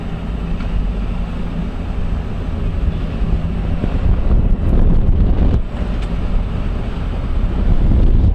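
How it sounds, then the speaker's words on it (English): Strong wind buffets the microphone through an open window during flooding at Point au Fer, a low, rumbling roar gusting louder at moments and never letting up. "I have a kind of a southern exposure, and it's kind of windy."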